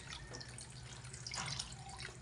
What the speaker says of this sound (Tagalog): Ihuhulog na po natin ang tubig na.